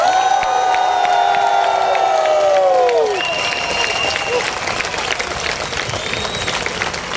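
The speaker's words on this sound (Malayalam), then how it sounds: "എല്ലാവരും നല്ല ക്ലാപ്പ് ചെയ്യോ?" A crowd at a Herbalife event applauds loudly and steadily, with some cheering mixed into the dense clapping.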